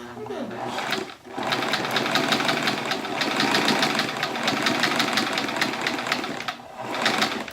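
A sewing machine stitches back over a quilt seam, running steadily and close for several seconds with a brief pause near the start and another dip toward the end.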